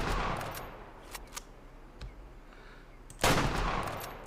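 Rifle shots fired while hunting in the game Way of the Hunter, a quiet outdoor ambience broken by a few sharp cracks and one loud blast with a lingering tail near the end.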